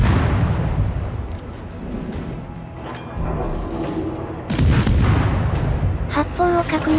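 Heavy booming gunfire from large naval guns in World of Warships thunders in repeated blasts, with rumbling between shots and game sound effects layered on top.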